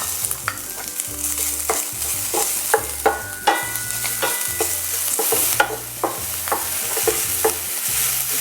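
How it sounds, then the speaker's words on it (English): Aromatics sizzle steadily in a wok for mapo tofu while a utensil stirs them in repeated scraping strokes, quick and close, with no voices. "Now quickly give it a quick stir fry because you wouldn't want it to burn"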